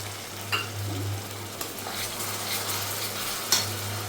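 Tomato and chili paste frying and being stirred in a hot pan on a gas stove, a steady close sizzle with soft scraping stirs and a few sharp clinks of a utensil against the pot, no talking.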